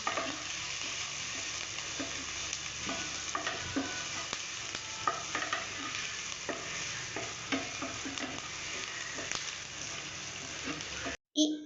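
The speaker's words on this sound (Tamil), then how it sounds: "கொஞ்சம் உப்பு ஆட் பண்ணிக்கலாம். நல்லா மிக்ஸ் பண்ணிக்கலாம்." A spoon steadily scrapes and clacks through an upma mixture in a pan over a low continuous sizzle, irregular knocks repeating throughout before a brief break near the end.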